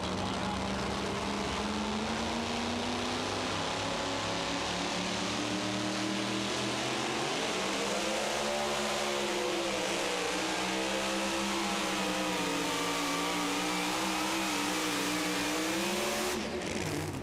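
A super modified two-wheel-drive pulling truck roars at full throttle through a pull in Hillsboro, Wisconsin, its engine a loud, sustained howl that dips and climbs in pitch as it revs, with a faint commentator's voice underneath.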